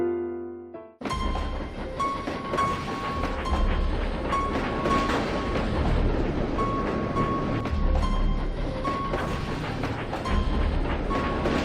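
A train rolls steadily along railway tracks, loud and close, with a continuous rumbling roar, rhythmic clatter and occasional whistling tones. It starts abruptly after a brief quiet moment and has no talk.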